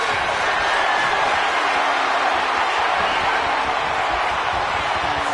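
Arena crowd cheering and roaring in the WWE 2K25 wrestling video game during a Money in the Bank match, a dense, steady wash of noise at constant loudness throughout.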